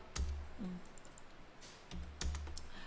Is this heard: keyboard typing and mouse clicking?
yes